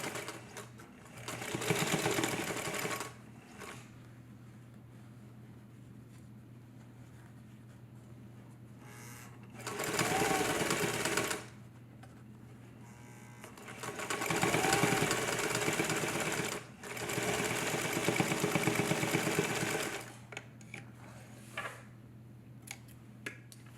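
A sewing machine stitches tote bag seams in several distinct bursts of steady whirring, each a few seconds long, separated by quieter pauses with faint handling noise.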